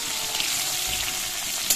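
Fish fries in a pan over a gas flame with a steady, bright sizzle and crackle, close and continuous, with a small spattering pop near the end and no voices.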